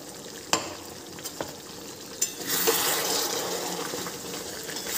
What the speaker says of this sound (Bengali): চিকেন কষানো চলছে